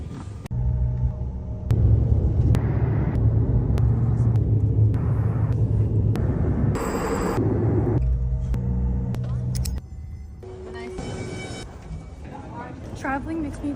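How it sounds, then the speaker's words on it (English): Steady low engine rumble inside a small plane's cabin, loud and continuous throughout, with a shift in tone partway through and a voice talking over it. "We're on a small plane"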